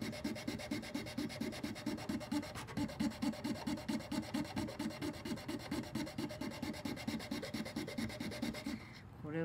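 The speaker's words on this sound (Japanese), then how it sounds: "これは何番かな、60番ぐらいの粗いヤスリですね。" Wood is sanded by hand with coarse 60-grit sandpaper in quick, even back-and-forth rasping strokes, close and steady for about nine seconds before stopping.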